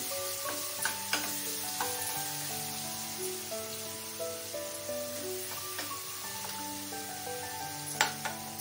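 Coarsely ground soaked chana dal paste sweetened with a spoonful of sugar sizzles and fries in a pan as it is stirred, a soft steady crackle with occasional scraping taps, with music playing under it.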